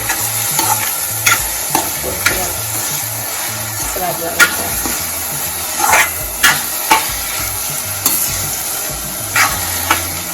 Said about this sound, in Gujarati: તો આ રીતના આપણે એકદમ તેલમાં શેકાવા દઈશું અને ખુલ્લું જ શેકાવા દઈશું